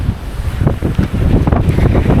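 Strong stormy wind batters the microphone on a coast during a storm, a loud rough roar with gusty buffeting and possible surf underneath, continuous throughout.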